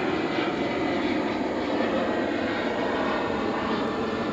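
Airplanes pass overhead in a steady, broad roar that fills the whole span, loud and continuous with no voices over it.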